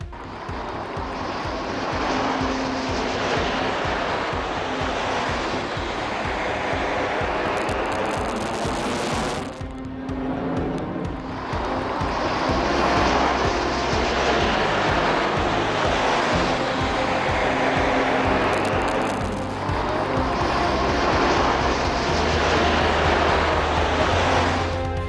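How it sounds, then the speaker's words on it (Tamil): An Indian Air Force Sukhoi Su-30 MKI fighter jet flies aerobatics over the Marina beach air show in Chennai, its loud engine roar swelling, fading and swelling again overhead for the whole stretch. "விமானப்படையின் சுகோய் 30 MKI போர் விமானம் செங்குத்தாகவும் தலைகீழாகவும் சுழன்று வானில் ஜாலம் நிகழ்த்தியது."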